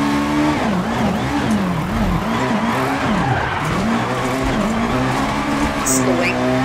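Peugeot 306 Maxi rally car on a gravel stage in the game EA WRC, engine revving up and down through gear changes with tires skidding, loud and close, continuous throughout.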